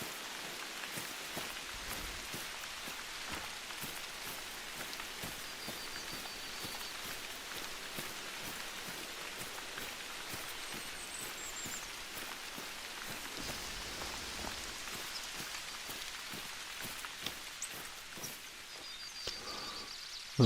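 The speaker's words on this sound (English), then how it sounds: "now this rain, while making it more difficult for us to hear," Steady rain falls in the hunting game Hunter Call of the Wild, a dense continuous patter of drops on the ground lasting about twenty seconds, fairly close and even, with no voices.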